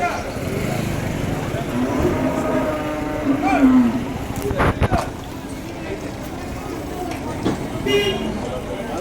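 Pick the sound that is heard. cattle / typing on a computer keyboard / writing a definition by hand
cattle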